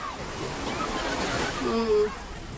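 Sea waves wash in at a crowded beach, a steady broad surf roar close by with brief swells, while people's voices carry faintly over the water.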